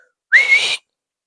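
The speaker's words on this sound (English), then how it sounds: "And he whistled and shouted," A person gives a single short rising whistle, loud and close, lasting about half a second with silence on either side.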